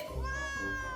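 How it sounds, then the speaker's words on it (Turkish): A cat meows in a home where children play with balloons, a single drawn-out close meow with a clear harmonic tone lasting about a second. "bu miyavlama sesi de ne böyle?"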